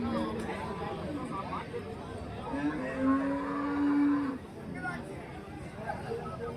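Cattle moo at a busy cattle market in Krishnagiri district, with one long, loud low moo rising above a steady crowd chatter and nearby talk.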